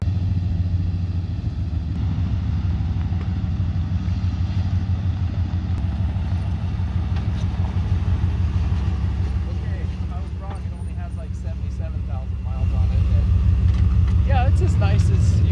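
A Ford OBS truck with a 460 engine rumbles loudly as it drives, its low engine drone swelling toward the end, with a person talking over it.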